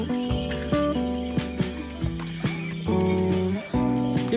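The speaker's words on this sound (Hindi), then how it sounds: "ये देखो खच्चर जा गया मेरे पास से" A mule, a horse and donkey cross, passes close by on the Kedarnath pilgrimage trail, its hooves clip-clopping in uneven steps beneath loud, steady tonal music.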